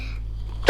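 A single sharp sneeze bursts out suddenly at the end after near silence, loud and close.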